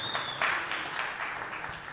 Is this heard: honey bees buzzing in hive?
no